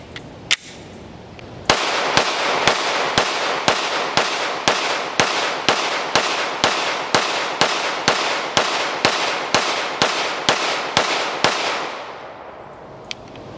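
An HK VP9 long slide pistol fires with a 21-round Xtec tactical magazine: one early shot, then about twenty loud, sharp reports at an even, rapid pace, each with a short ringing tail, before the firing stops.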